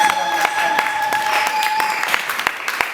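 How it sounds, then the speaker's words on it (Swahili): A congregation at an evening church service applauding, loud rhythmic clapping with sharp regular beats and a sustained tone ringing underneath, close and full. "Tumshangilie Bwana Yesu kwa makofi sana"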